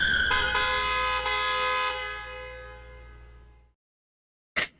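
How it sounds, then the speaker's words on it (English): Car horn blasting in a video game street scene, a loud sustained honk of about two seconds with a short second toot, fading out, then silence and a brief sharp click near the end. "a speeding car honks angrily at me"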